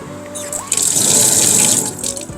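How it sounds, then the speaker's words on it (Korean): Water gushes from an outdoor sink tap at a free riverside campsite, swelling quickly to a loud, close, steady rush that eases off near the end, with no talking. "개수대 물 얼마나 잘 나오는지 확인해 볼게요."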